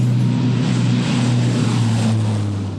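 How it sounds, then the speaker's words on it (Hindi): Propeller drone of military transport aircraft, one C-295 and two C-130s, flying in formation over a Republic Day flypast, a steady loud low hum with broad rushing noise, continuous and without voices. "अर्जुन फॉर्मेशन में एक C-295 और 2 C-130 विमान अपने प्रदर्शन से आपको रोमांचित कर देंगे।"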